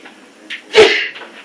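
A single loud, close sneeze with a short breathy intake before it, alone in a quiet room.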